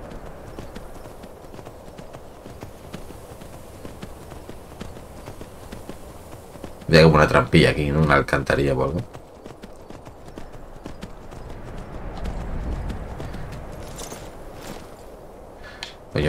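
A horse in Skyrim gallops in a loud, dense burst of hoofbeats for about two seconds, then the thudding grows lighter and scattered, with a voice speaking briefly.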